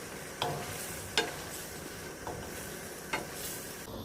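Pechay sautéing with squid and tomato in a pan, a soft steady sizzle with a few sharp stirring clacks of a utensil against the pan, close and fairly quiet, no voices.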